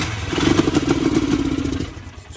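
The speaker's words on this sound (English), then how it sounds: "Now let's see what kind of throttle response we got." The engine of a Polaris 500 golf cart revs briefly on the throttle during tuning, a close, rough mid-pitched rumble rising and falling over about two seconds.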